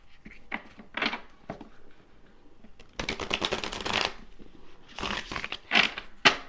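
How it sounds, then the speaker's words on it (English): A large deck of tarot cards being shuffled by hand, with soft riffles and slides in bursts, several brisk runs separated by brief pauses, close and fairly quiet. "Got one more shuffle."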